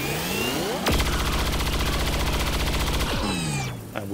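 Rapid automatic gunfire in the video game XCOM 2, a sustained burst of loud shots lasting about two seconds aimed at a Warlock, set over a game music backdrop with no talking.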